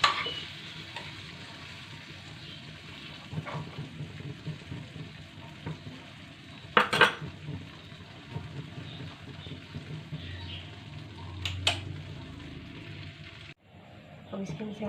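Butter melts in a hot nonstick frying pan with a soft, continuous sizzle and a few clinks of a utensil against the pan, carrying on for several seconds under a speaking voice.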